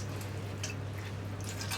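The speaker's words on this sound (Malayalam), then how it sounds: "നമുക്കിത് പിഴിഞ്ഞെടുക്കാം. ഇത് കണ്ടോ, ഇപ്പോൾ വെറുതെ വെള്ളം പോലെയുള്ള പാലാണ് വരുന്നത്." Grated coconut squeezed by hand to press out thin coconut milk, giving faint wet squishing and soft dripping over a low steady hum, close and quiet with no talking.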